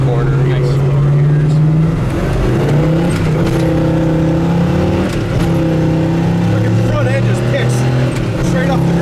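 A 1969 Chevy Nova big block with a 4-speed manual drives past with a loud, steady engine drone, pulling through the gears while people talk over it inside the car.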